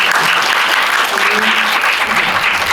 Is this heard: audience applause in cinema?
yes